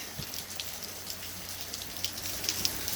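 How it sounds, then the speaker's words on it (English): A heavy downpour pours onto a street, with dense constant patter and small sharp drips near the listener, steady throughout with no voices. "So it was pretty massive downpour."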